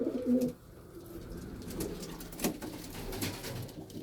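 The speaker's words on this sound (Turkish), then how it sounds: "Hali hazırda 4 takım döneğimiz var." Roller pigeons coo with a brief, close rolling call at the start, then fainter muffled cooing and shuffling sounds continue beneath a steady background hum.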